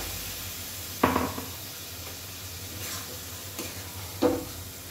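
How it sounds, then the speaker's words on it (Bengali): Fried eggs being stirred into spicy masala in a pan, a few scraping stirs with short clattery bursts over a soft background sizzle, fairly close. "এবারে ভেজে রাখা ডিমগুলো আমি দিয়ে দিচ্ছি।"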